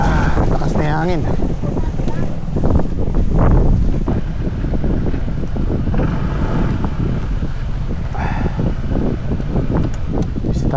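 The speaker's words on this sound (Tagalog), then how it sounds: "Lakas na yung hangin." Strong wind pummels the microphone outdoors near water, a continuous loud roaring rumble with gusty surges throughout, and a person talking underneath it.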